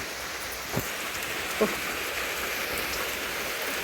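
Steady hiss of rain falling, with a couple of brief soft thuds partway through and no voices.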